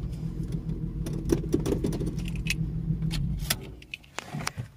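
VR6 turbo car creeping back into its parking spot, a low idling engine rumble under scattered clunks and clicks, quieter toward the end.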